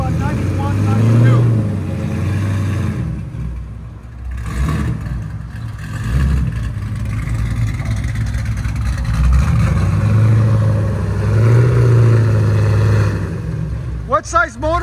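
A cammed Chevy Camaro SS with a 6.2L V8, headers and a Spintech exhaust rumbles loud and close, swelling through revs and settling back, with a sharp rev burst at the end and voices talking over it.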